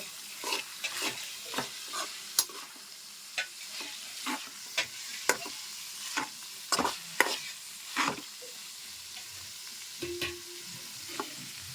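Curdled milk solids frying in a kadai while a spoon stirs them, giving soft scrapes and clinks at an uneven rhythm over a quiet, steady sizzle, close by, with no talk.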